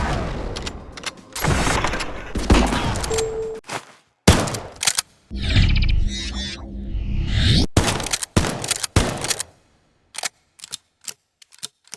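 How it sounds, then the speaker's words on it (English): A Reed Industries 570 pump shotgun fires in a first-person shooter game, with sharp loud blasts separated by mechanical pump-action clacks, then a run of short clicks and thuds as it reloads. "The Reed Industries 570 is the first shotgun you can buy after a mission or two"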